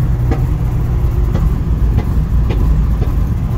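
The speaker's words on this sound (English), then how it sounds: "I'm holding the throttle steady state right now." A 1969 Chevrolet Camaro restomod with an LS3 V8 holds a steady throttle, producing a loud, constant low engine drone heard close up without variation, with no speech over it.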